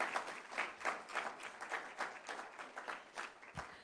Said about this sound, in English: They deserve a round of applause.